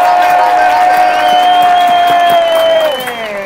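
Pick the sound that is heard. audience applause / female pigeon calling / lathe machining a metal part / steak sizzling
audience applause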